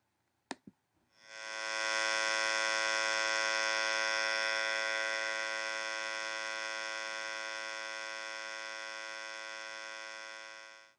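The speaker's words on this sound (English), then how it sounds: "And then let's listen to the sawtooth wave." A synthesized sawtooth wave tone, bright and buzzy with a dense stack of harmonics, holds steady and loud for about ten seconds after a couple of brief clicks at the start, fading slightly toward the end.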